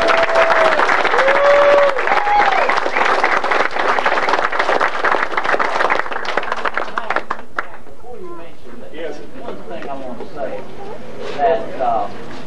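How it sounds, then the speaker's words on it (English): A crowd at the National Hollerin' Contest in Spivey's Corner gives a loud, sustained round of applause with a few whoops, then it cuts off and scattered chatter and voices take over. "I would like to ask you for a round of applause for these folks."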